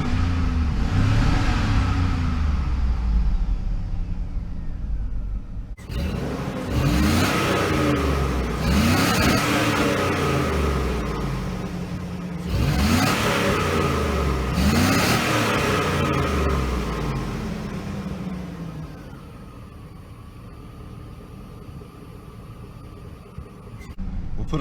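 A 2002 GMC Yukon engine idles close by, then revs up in three strong rising-and-falling bursts before settling back to a steady idle.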